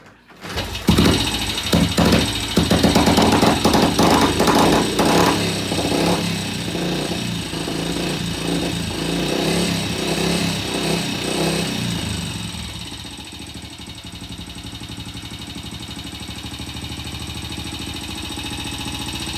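A BSA C15 motorcycle engine starting for the first time after restoration, revving loudly and unevenly before settling into a steady, quieter idle.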